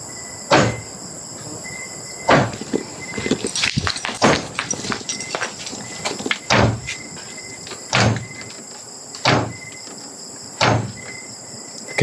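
A door in a supposedly haunted house creaking and knocking open, with a series of sharp, fairly close thumps and rattles spaced irregularly through otherwise quiet surroundings and faint insect chirps in the background.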